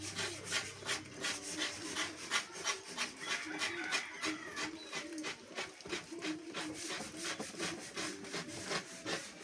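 Rhythmic rasping strokes of sandpaper rubbing against a wooden lechon tray, repeating steadily back and forth at close range with faint background voices.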